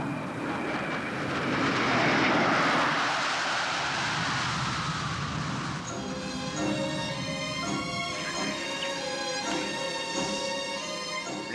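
Aircraft engine noise from a plane readying for takeoff swells into a loud, broad roar, then settles into a steady, tonal whine, with no talk.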